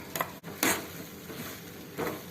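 A spoon scrapes black-eyed bean sundal around a pan over a low flame, making a few brisk strokes with short gaps between. The sound is close and fairly quiet, with a faint sizzle beneath and no voices.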